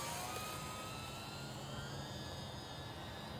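A Horizon Hobby Carbon Cub UMX, a small RC plane, makes low passes overhead, its motor a steady, continuous whine that drifts slightly in pitch and stays fairly loud throughout, with no talking.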